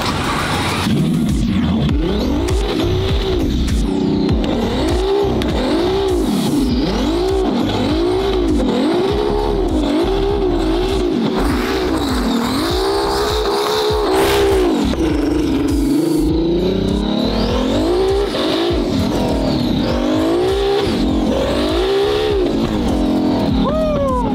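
A loud turbocharged car engine revs and surges nonstop, its pitch rising and falling with each throttle push, heard close up with no clear voices.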